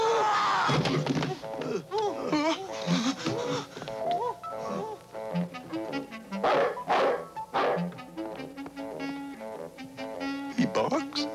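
Dog barking and yipping in a chaotic scene, with excited voices shouting over and between the barks.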